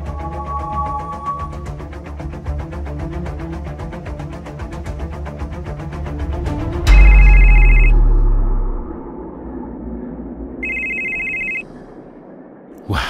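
An animated cartoon telephone rings in loud, repeated electronic bursts over a busy background, followed by a heavy thump and one more short ring burst.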